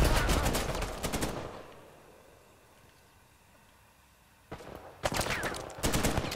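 Gunfire in the Uncharted 4 multiplayer game: a loud burst of rapid shots at the start, a quieter stretch with low rumble, then more rapid bursts of automatic fire near the end.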